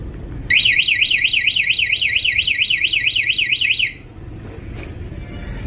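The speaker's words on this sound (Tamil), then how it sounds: "வண்டி எங்க இருக்குன்னு கண்டுபிடிக்கிறதுக்கு வந்து இந்த கீயா, வண்டி எங்க இருக்குன்னு கண்டுபிடிக்குமா?" Bike locator alarm set off by a remote key, a loud warbling electronic siren close by that sweeps rapidly up and down for about three and a half seconds, then cuts off, leaving a low background rumble.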